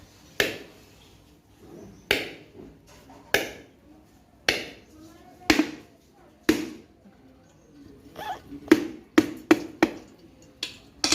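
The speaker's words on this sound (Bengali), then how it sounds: "নারকেলগুলো দেখি আমি চেষ্টা করে ফাটাতে পারি কিনা" Coconuts being cracked open over a basin, a series of sharp, loud, close blows spaced about a second apart, then faster clustered strikes near the end, with no voice.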